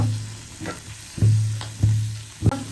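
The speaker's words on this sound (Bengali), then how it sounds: "মাছ এক পাশ ভাজা হয়ে গেছে, এখন উল্টে নিব" Fish frying in hot oil in a pan, a steady close sizzle broken by three louder bursts of crackling as the pieces are stirred or shifted, with no talking.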